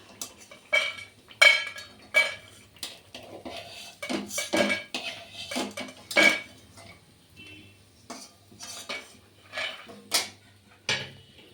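Fried lentil dumplings (bori) being lifted from the pan into a bowl: a series of close metallic clinks and scrapes of a utensil against cookware in irregular bursts, with no talk.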